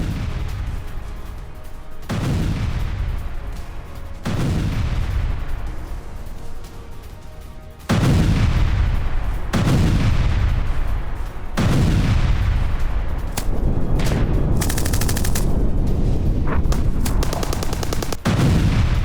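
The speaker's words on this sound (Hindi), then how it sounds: "ये देखिए जरा किस तरीके से माइंस हटा रहे हैं, हैंड ग्रेनेड फेंक के" Repeated heavy blasts from hand grenades thrown to clear landmines in Ukraine, loud sharp booms spaced a few seconds apart, each with a long rumbling decay, growing more frequent and dense toward the end.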